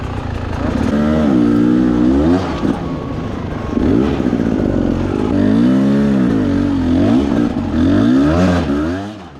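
A dirt bike engine revs hard while climbing a steep hill at a Tennessee off-road race, loud and close, its pitch rising and falling in repeated surges of throttle with clattering underneath.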